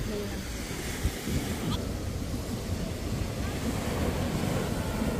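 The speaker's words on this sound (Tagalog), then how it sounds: "Tsaka malakas ngayon yung alon. Mahangin." Strong sea waves roll and crash steadily onto a beach in Ilocos Sur while gusty wind buffets the microphone, making a continuous loud roar throughout.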